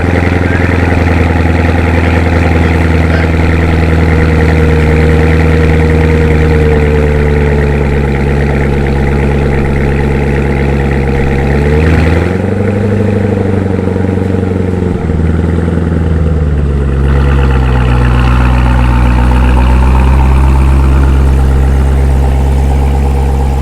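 A supercharged Corvette idles with a deep, loud, steady rumble up close, then the revs shift and the tone dips and rises as the car pulls out, the engine note carrying on alone.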